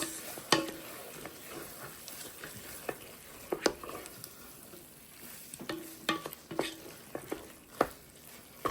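Chicken and rice fry in a pot with a steady soft sizzle, broken by repeated scraping stirs and clinks of a utensil against the pot, close and with no talking.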